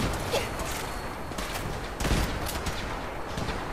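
Gunfire from Brotherhood soldiers in Fallout 4, a steady crackle of mixed shots in the background with a louder burst near the middle, sustained throughout a noisy firefight.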